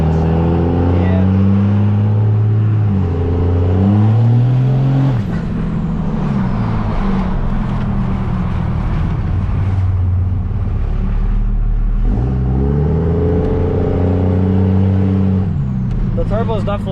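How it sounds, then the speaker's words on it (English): Cummins diesel truck engine fitted with an ATS Aurora 3000 turbo, revving loudly and steadily up and down under continuous nearby conversation. "The turbo's definitely louder though"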